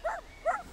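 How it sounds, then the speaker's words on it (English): Small dogs at a countryside house with a field behind it give two short, quiet yaps about half a second apart, alone and with no talking. "little dogs here and there"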